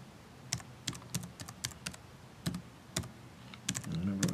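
Keys clack on a computer keyboard in short separate bursts and quick runs of strokes, close and fairly quiet against faint room noise.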